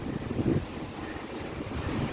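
Stormy wind and rain outdoors during a cyclone in rural Bangladesh, a continuous roar of gusting wind buffeting the microphone, with rushing noise that swells and eases, loud and close, with no speech.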